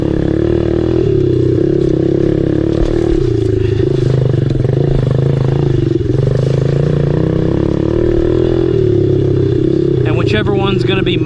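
A Honda CRF110 dirt bike engine runs steadily at a low idle throughout, a continuous close rumble with some clatter and a brief higher rev burst near the end.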